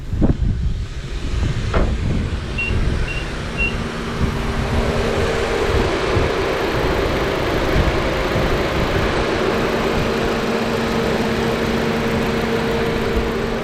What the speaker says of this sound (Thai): ไปฟังเสียงเครื่องกัน